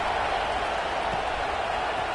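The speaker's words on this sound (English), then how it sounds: "this crowd is buzzing after that last score" Dense, steady roar of a football stadium crowd buzzing after a touchdown in an FSU vs Clemson game, a continuous broadband wash of many voices held at a constant level throughout with no single voice standing out.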